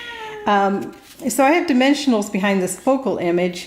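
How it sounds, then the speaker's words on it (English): A house cat meows repeatedly up close, several drawn-out, rising-and-falling cries in quick succession, while a person talks over them. "that's my cat here"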